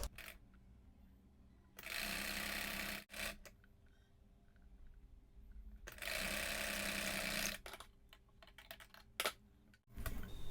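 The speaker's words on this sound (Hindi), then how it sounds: "अब इधर से भी सिलाई लगा दें।" A sewing machine stitches a young girl's skirt top in two bursts of steady whirring, each about two seconds long, separated by quiet pauses and soft handling clicks.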